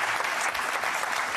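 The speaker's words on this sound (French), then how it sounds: "Franchement, applaudissements." A French television talk show's studio audience bursts into brisk, dense applause, loud and continuous throughout.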